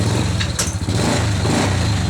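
A motorcycle engine running steadily nearby, a loud continuous buzzing drone with a slight rev partway through and no voices over it.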